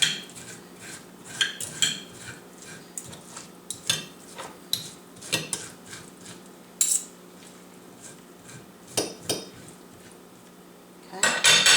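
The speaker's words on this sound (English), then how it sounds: "I just take a fork and you just scrape all the way down like this to the" A metal fork scrapes fruit flesh down to the rind against a bowl or plate, giving a run of irregular clinks and scrapes, close and fairly quiet, with short pauses between strokes.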